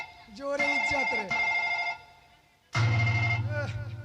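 A telephone rings late at night in a Bhojpuri musical comedy: a loud, close electronic ring sounds in bursts, pauses briefly, then starts again, with voices heard faintly around it.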